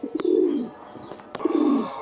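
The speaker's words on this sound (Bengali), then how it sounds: "দর্শক এই রকমের অ্যাক্টিভ কবুতর আপনার খামারে এক জোড়া রাখলেই যথেষ্ট" Blue Bar Danish pigeons in a loft, two clear close coos about a second apart, each a low rolling throaty phrase, with faint background clatter and no talking.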